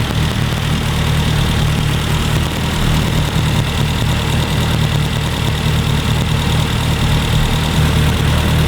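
A Mini car engine idles steadily during ignition timing work, a loud, close, continuous low rumble with an even, slightly knocking beat and no talk over it.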